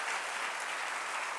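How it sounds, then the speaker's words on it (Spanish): A congregation applauds during a Spanish-language sermon, a steady, fairly faint wash of clapping that carries on evenly without any voices. "denle un aplauso a Él"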